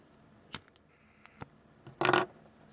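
Scissors snipping the thread on a beaded edging project: a couple of small sharp clicks followed by a brief louder rasping snip, close up and with no talking.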